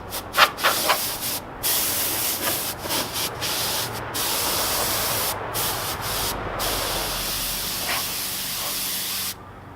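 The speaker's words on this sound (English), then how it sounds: "Now I'm just going to spray it with some air and get all the rest of the lint and everything off." Bursts of compressed air hiss loudly as lint is blown off an RC truck body before painting, a few short blasts followed by long steady sprays with brief pauses.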